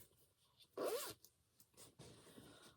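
A single quick zip of a small zipper pouch, close and crisp, followed by soft handling rustles.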